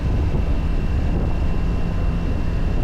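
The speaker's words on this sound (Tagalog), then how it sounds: "Lakas pa ng hangin." Strong wind buffets the microphone in a steady, loud low rumble that continues without a break.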